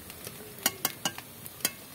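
Banana peel and lentil fritters made with parboiled rice fry in a pan with a faint, steady sizzle, broken by about half a dozen sharp taps of a utensil turning them.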